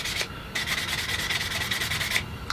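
Wooden coaster edges cut from a failed guitar body are sanded by hand, producing close, scratchy rubbing strokes in a steady back-and-forth rhythm with short pauses between passes.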